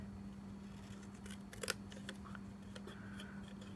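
Scissors trimming craft materials for an ornate mini purse, a few faint close snips clustered together over a low steady hum in an otherwise quiet room.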